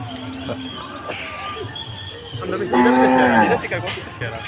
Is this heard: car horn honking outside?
no